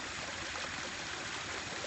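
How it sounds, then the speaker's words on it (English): Water pours steadily down a pondless waterfall display in a water feature showroom, a constant close rushing splash with no voices. "This is our pondless basin. Here's our pondless waterfall."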